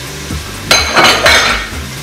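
Cubes of softened butter drop into a pot of biryani rice with a few soft thuds and clinks of a utensil against the pot, close and unaccompanied.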